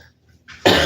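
A person coughs once, short and sharp, after a faint throat sound, close to the microphone with no other voices.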